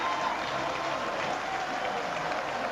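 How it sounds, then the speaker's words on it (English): A large roadside crowd cheers and applauds steadily as a rider enters the velodrome at the finish of a Critérium International road cycling stage, a dense, continuous roar with no clear break. "a huge cheer goes up here"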